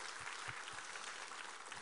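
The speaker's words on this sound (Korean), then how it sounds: "우리 하나님께 감사와 영광의 박수 올려드리겠습니다." Church congregation applauding during a Sunday worship service, a dense, steady patter of many hands clapping together with a faint rhythmic pulse, continuous and fairly distant, with no voices.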